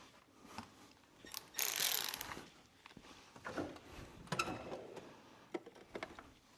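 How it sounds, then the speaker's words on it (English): A 3/8-inch ratchet fitted with 1/4-inch and 10 mm swivels works loose the starter bolts on a Ford Mustang S550 during a clutch swap, giving scattered quick clicking bursts and metallic clatter at close range. "I use 3/8 ratchet,"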